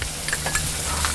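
Basil drops into a hot pan and sizzles briskly, a short, close burst of frying crackle with light stirring scrapes.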